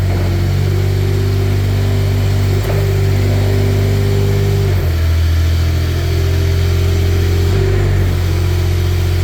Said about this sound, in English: here's your Kubota coming to life